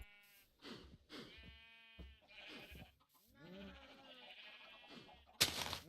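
Minecraft sheep bleat several times in short, wavering calls with pauses between them. A final louder burst closes the sequence, all fairly quiet and heard without talk.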